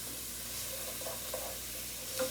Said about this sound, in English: A little bit more oil, seems a little dry. I want to saute these just a little bit.